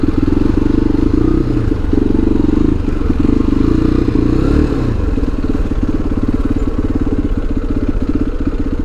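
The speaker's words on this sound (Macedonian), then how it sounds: "Да најдам само соодветно место да си го паркирам моторот." A motorcycle engine runs loud and close throughout on a street while the rider looks for a parking spot near a hotel, with a steady throbbing idle and slight shifts in revs partway through.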